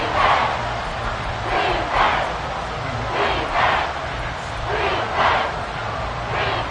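Stadium crowd in a Madden football video game, roaring and cheering in repeated swelling surges, loud and sustained, with a commentator's voice faintly underneath.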